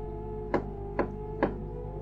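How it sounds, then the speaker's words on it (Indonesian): Three evenly spaced knocks, sharp and fairly close, sounding over a steady low hum in a quiet room, used as an eerie effect. "Bahkan anehnya, suara ketukan itu berpindah-pindah."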